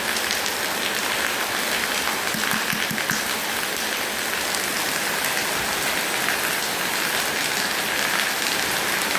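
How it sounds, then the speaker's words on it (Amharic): Heavy rain pouring down and drumming on surfaces, a dense, loud, unbroken hiss of drops with no pauses and no voices. "ዝናብ ስለሆነ"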